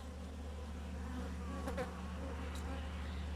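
A dense hum of many honeybees buzzing close by at a four-frame hive, steady and continuous, with a few individual bees droning past.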